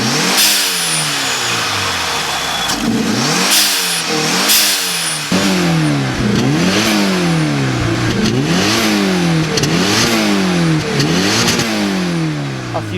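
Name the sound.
Mitsubishi Lancer Evo 4G63 turbocharged 2-liter engine revving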